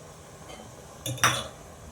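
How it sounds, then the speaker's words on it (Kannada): Tempering is added to a pot of vegetable sambar, giving a short burst of metallic clinks and a sizzling splash from a ladle against the pot, close and fairly loud over a quiet background. "ಒಗ್ಗರಣೆ ಸೇರಿಸ್ಕೊತಾ ಇದ್ದೀನಿ"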